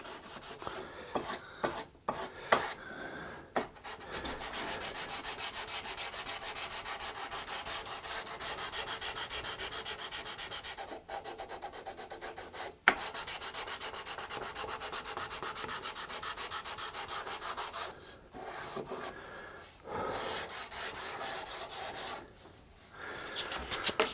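Steady, continuous rasping of 320-grit sandpaper rubbed back and forth over a wooden guitar headstock inlay, close and fairly loud, with a few brief pauses between strokes.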